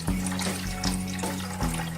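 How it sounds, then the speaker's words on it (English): Water runs into the tank of a toy fire truck, a steady close trickle with a faint rhythmic pulsing hum underneath, repeating roughly every half second. "So this is where you fill it with water."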